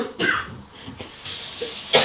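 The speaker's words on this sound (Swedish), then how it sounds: "Jag fick jättemycket hosta, jag måste ha dricka" Coughing from a pregnant woman, several short harsh bursts spread across the moment, close and fairly loud, with no speech.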